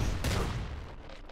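Auto mortar weapon in the Nuclear Throne video game firing, a single loud booming blast with a bright noisy burst that fades into a lingering rumble.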